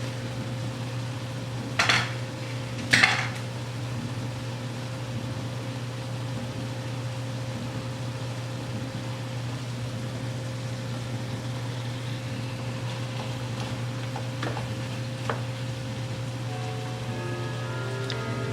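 Onions for French onion soup cook in a pot while a utensil scrapes and clinks a couple of times early on, over a steady low hum and soft background sizzle.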